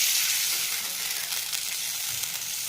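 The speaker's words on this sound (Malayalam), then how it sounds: "വെള്ളത്തിനകത്ത് ഇട്ടിട്ട് തിളഞ്ഞൊരു ഇങ്ങനെ ഇളക്കണം." Fish curry with small pieces of kudampuli (Malabar tamarind) boiling in water in a pan while being stirred: a steady, close, even bubbling sizzle with no voices over it.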